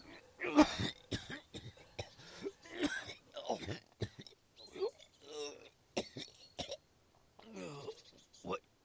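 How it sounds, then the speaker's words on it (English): A man coughs and clears his throat in a string of rough, uneven bursts, close up, with strained breathy sounds between. "He convulses and coughs as I lie him down."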